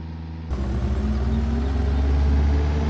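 A Bobcat S185 skid steer engine in Farming Simulator 22 kicks in after a brief lull, a steady mid-pitched rumble that stays loud and constant while spreading gravel on a parking area, with no talk.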